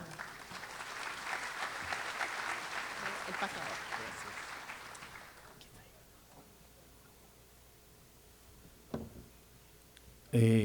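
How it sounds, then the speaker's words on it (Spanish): An audience at a national accreditation conference applauds as a speaker is welcomed: steady, dense clapping from a seated crowd in a hall that fades out after about five seconds, followed by near silence and a few faint knocks. "al doctor Pedro Enríquez Guajardo, a quien recibimos con un fuerte aplauso."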